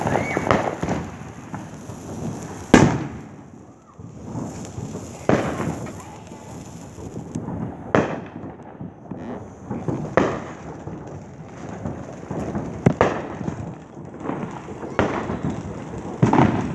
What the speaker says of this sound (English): there's going to be another firework going on